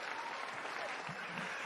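A live audience at an anime awards show applauds in a steady, dense wash of clapping that stays even and fairly distant for its short length, with no talking over it.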